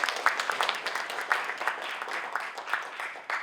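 An audience at a Pune architecture and interiors design debate event claps in a sustained round of applause, dense and continuous with faint voices underneath.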